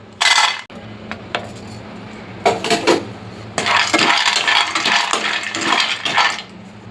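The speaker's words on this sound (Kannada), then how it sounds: "ಇವಾಗ ಇದಕ್ಕೆ ನಾನು ಗೋಡಂಬಿ ಮತ್ತು ಬಾದಾಮಿನ ಒಟ್ಟಿಗೆ ಹಾಕ್ಕೊಂಡು ಡ್ರೈ ರೋಸ್ಟ್ ಮಾಡ್ಕೊಳ್ತಾ ಇದ್ದೀನಿ." Cashews and almonds dry-roasting together in a pan, with loud clattering and rattling as the nuts are stirred and tossed against the metal, in irregular bursts with brief quieter gaps between.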